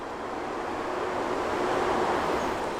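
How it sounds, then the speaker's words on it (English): Ambient sound of an industrial area in Southeast Newport News near a coal terminal: a steady, broad, distant rumble and hiss of machinery and wind, even and unbroken, with no voices. "This is the sound of the area in Southeast Newport News where Donquita and Lawrence used to live."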